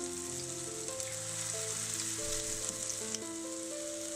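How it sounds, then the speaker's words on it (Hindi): Mixed vegetable pakora batter frying in hot oil gives a steady, close bubbling sizzle that holds evenly throughout, with a faint tonal hum running underneath. "अब हम पकोड़ों का मिक्सचर डाल देते हैं गरम गरम ऑयल में"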